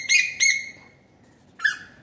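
A bird gives three loud, clear whistled calls outdoors in an orchard, two in quick succession and then one more after a short pause.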